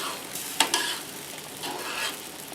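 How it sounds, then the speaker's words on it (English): Liquid stirred into beef tips gravy in a pan gives soft scraping and swishing strokes with a light sizzle beneath, including a couple of quick utensil taps against the pan, close and moderately quiet. "now I can stir in the rest of the liquid, make sure it's thickened all the way through"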